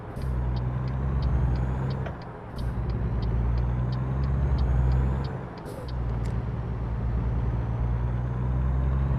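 A Peterbilt truck in American Truck Simulator rumbles with a steady low engine drone, with two dips in level and a series of regular high clicking ticks from the cab, with no talking.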